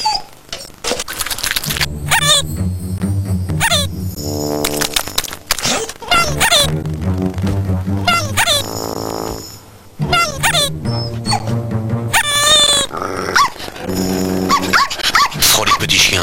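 In a French Frolic dog food commercial, a dog barks, growls and yips in repeated bursts under background music and an announcer's voice.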